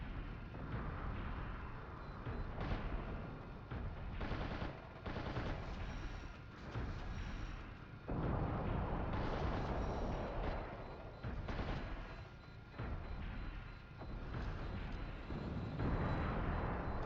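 Dense, continuous gunfire and explosions from the Steel Battalion mech combat game, with warehouses being destroyed, a loud, sustained barrage of blasts and shots with no pauses across the whole stretch.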